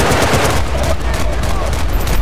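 Rapid bursts of gunfire from the video game Battlefield Bad Company 2 crackle loudly and continuously in a close, busy firefight, with voices mixed in.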